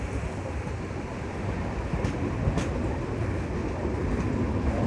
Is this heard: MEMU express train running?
yes